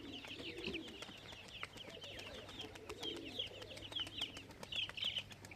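Pigeons coo on a rooftop, low repeated rolling coos from several birds close by, steady and faint, with scattered higher bird calls and light ticking noises in the background.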